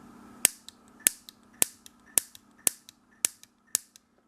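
A homemade mini fireball pistol lets out sharp, evenly spaced pops, about seven in a row roughly every half second, each followed by a fainter secondary click, with no other sound around them.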